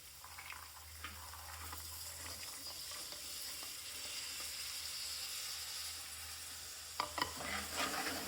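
Green pigeon peas frying with green garlic in a pan, a faint steady sizzle with a few soft stirring scrapes near the end.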